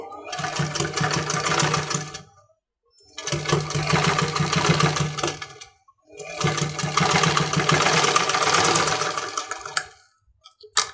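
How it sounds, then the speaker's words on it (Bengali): Sewing machine stitching seams on the body fabric of a designer baby frock, running in three long loud bursts separated by short pauses, close up. "বডির কাপড়ের উপরে আমি সেলাইটা করে নিচ্ছি"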